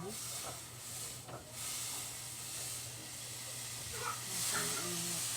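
Butter melting in a hot pan gives a steady, continuous sizzling hiss close by, with a few faint clinks and thin background sounds and no talking, while creamy macaroni pasta is being cooked.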